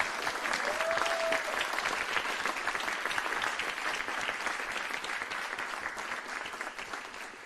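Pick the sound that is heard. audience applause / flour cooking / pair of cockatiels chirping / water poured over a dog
audience applause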